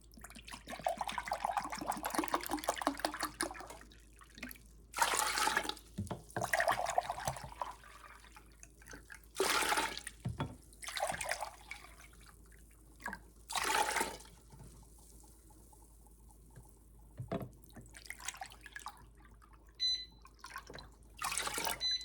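Apple juice is poured into homemade apple pie filling in a home kitchen, with repeated short splashing bursts separated by quieter gaps, stirring and handling sounds.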